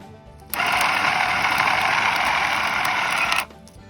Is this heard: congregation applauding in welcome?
no